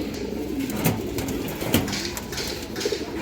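Indian high-flyer Kaldom pigeons coo in a steady low, rolling murmur, with a few louder coos standing out above the rest. The flock sounds close, and there are no voices.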